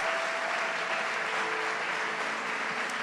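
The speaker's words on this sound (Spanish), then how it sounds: "¿Cuánto les dan un aplauso al Señor?" Steady applause from a church congregation, dense and continuous clapping throughout, no voices standing out.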